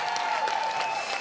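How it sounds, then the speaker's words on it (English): Brief burst of applause for players Pat and Tina at the Vulcan Tournament of Champions, part of the Carvana Championship, a steady patter of many hands clapping at moderate volume with no talk over it. "Let's give Pat and Tina a round of applause"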